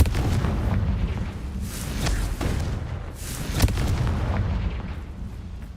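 Confringo blasting-spell explosions go off in the Hogwarts Legacy video game, with several deep booming bursts in quick succession and the sharpest blast near the end.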